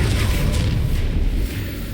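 A Confringo explosive spell blast in the video game Hogwarts Legacy, heard as a dense, loud low boom that rumbles steadily for nearly two seconds, with hiss across the upper range and no speech.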